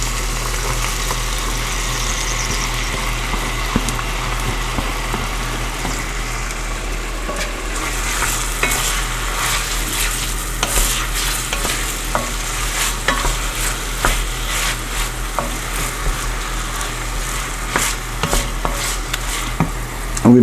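Onions and peppers sizzle and fry in a pan for a Spanish-style pigeon peas and rice dish, with a steady hiss and repeated scraping stir strokes, getting busier partway through.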